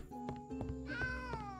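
Cat meowing in the farming video game Travellers Rest, a faint drawn-out meow rising and falling with a few soft clicks and game sounds around it.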